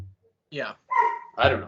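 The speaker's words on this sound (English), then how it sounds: "Nash is barking upstairs" A pet dog named Nash barks a couple of times from an upstairs room, sharp yelps breaking through between stretches of nearby conversation.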